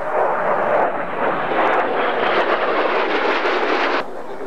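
Mirage III jets of an aerobatic team roar through a climbing manoeuvre at an air show, a loud, broad, sustained engine rumble that swells and holds before dropping off slightly near the end.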